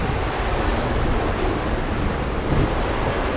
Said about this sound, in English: the waves have picked up a little bit